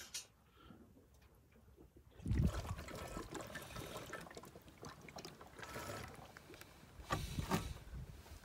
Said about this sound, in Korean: 파도 소리잖아.